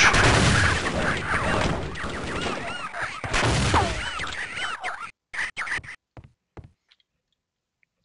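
Dense gunfire and creature screeches in the alien world of Xen in Half-Life: Opposing Force, loud and chaotic for five seconds before breaking into a few scattered shots and squawks, then near silence.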